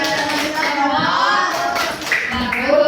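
Students in an Indonesian-language practice-teaching class clap for a group, steady close clapping with voices and chatter over it throughout.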